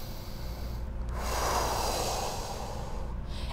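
A slow, deep breath in and out through the nose during foam rolling, heard close and soft as a hissing rush that swells and fades, alone without talk.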